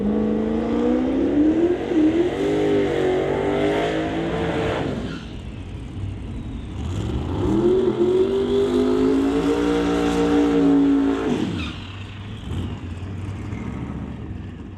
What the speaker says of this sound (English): Jason Gagnon, the runner out of Kelowna in that 1970 Nova with the twin turbos